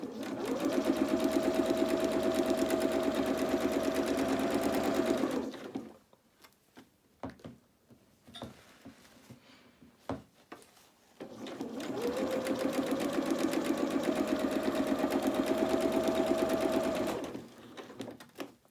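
A sewing machine stitching fabric for a Luna Lapin rabbit doll's dress, running in two steady, close bursts of about five seconds each, separated by a quiet pause with small handling clicks.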